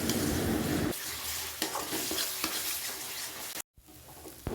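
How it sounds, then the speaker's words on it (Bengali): Spices sautéing and being stirred in a pan over lowered gas heat, with a steady close sizzle and scraping stir strokes that ease off after the first second, then a brief dropout and the sizzle returning. "গ্যাসের আঁচ কমিয়ে ভালো করে সমস্ত মশলাগুলো কষিয়ে নিতে হবে"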